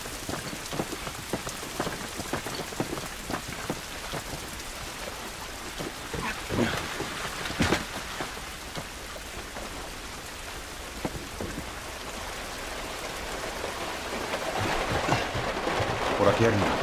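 Rain in the video game The Last of Us, steady dense pattering on surfaces with scattered heavier drips, building slightly louder toward the end, with no clear talking.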